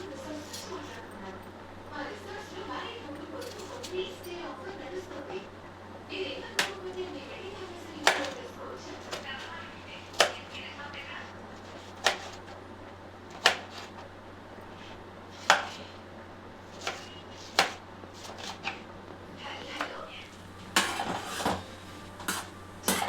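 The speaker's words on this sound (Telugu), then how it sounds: "టమాటాను కడిగిన కడుక్కొని ఇలా చిన్నగా కట్ చేసుకోవాలి" A knife chops tomatoes and green chillies on a board: sharp, evenly spaced knocks, one every second or two, over a steady low hum.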